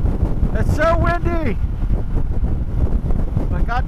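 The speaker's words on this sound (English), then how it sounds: "It's so windy," Steady low buffeting wind roar while riding a Yamaha Niken motorcycle fills the clip, with a voice speaking briefly over it near the start and end.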